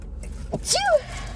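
A single short, sharp sneeze from a person at a table while eating a McDonald's breakfast, a quick burst with a falling tone, close by and alone against quiet room noise.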